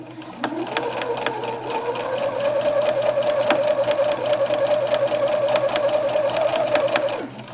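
A sewing machine runs close by for about seven seconds while stitching a French seam, starting with a rising whir, then holding a steady motor hum under rapid, even needle clicks before winding down, with no talking.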